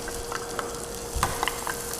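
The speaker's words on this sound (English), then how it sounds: "So we're going to put those in the frying pan" Vegetables sizzle in butter in a frying pan, a close, steady crackle with sharper pops and stirring scrapes scattered through, no voices.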